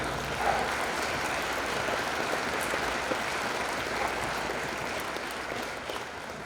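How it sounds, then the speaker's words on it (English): Audience at an annual meeting applauding, a steady, even wash of many hands clapping heard from a distance at moderate level throughout, without clear individual claps standing out. "How about a round of applause for our farmers?"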